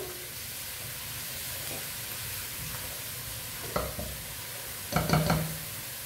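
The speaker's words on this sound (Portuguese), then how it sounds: "Agora a gente vai deixar dourar o alho." Garlic browning in a pan for a homemade cassava broth with dried beef and kale gives a faint, steady sizzle, with a couple of soft utensil knocks near the end and no voices.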